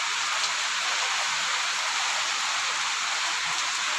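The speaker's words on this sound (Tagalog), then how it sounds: "Ang lakas ng ulan dito" Heavy rain pours continuously, a dense, even hiss of drops on surfaces that stays loud and unbroken throughout with no voices.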